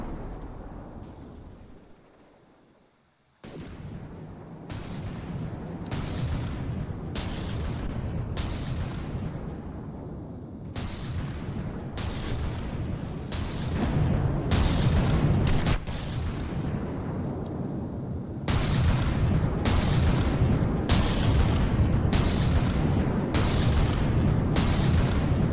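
Turret bombs burst in a naval battle video game, a heavy, rapid series of loud booms arriving about once a second after a short quieter opening.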